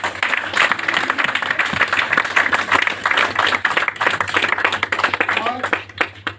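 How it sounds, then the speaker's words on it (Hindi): A crowd at a company event gives a loud, sustained round of clapping. The applause is dense and close, with voices mixed in beneath it. "एक जोरदार ताली"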